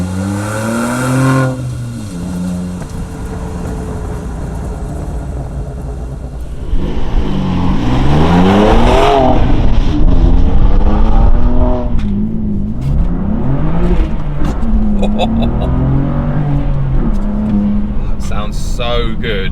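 A BMW M2 Competition with a Remus exhaust revs and accelerates loudly, exhaust rising and falling in pitch through repeated gear changes, with a voice talking over it.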